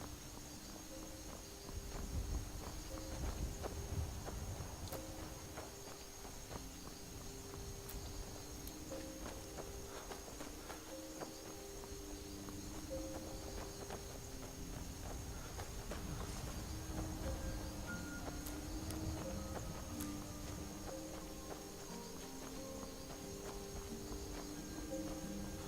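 Horse hooves clip-clop steadily in a fantasy video game, fairly quiet under continuous ambient game music with chirping insects in the background.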